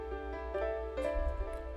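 Piano sample from a favourite piano bank, played in FL Studio with stacked layers, delay and reverb and the lows cut out. Sustained chords with a few soft note attacks, steady and close, alone with no talk.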